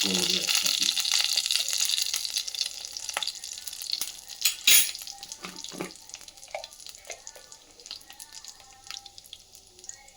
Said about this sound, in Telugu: పోపు చిటపట అనగానే